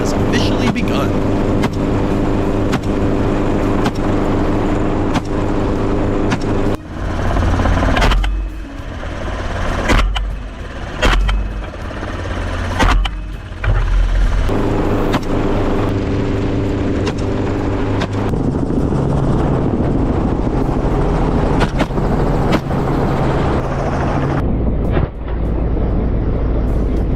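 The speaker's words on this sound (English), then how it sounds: "The roar of the helicopter cuts through the air" A helicopter roars steadily overhead during an aerial wild boar hunt, a loud continuous engine and rotor drone broken by several sharp, brief bangs, with a voice talking over it.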